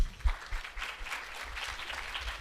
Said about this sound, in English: Again, another round of applause for our panelists.